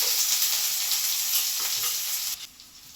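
Vegetable fried rice sizzles steadily and loudly in a pan on a gas hob as spring onions are tossed in, a bright continuous hiss that drops off sharply near the end.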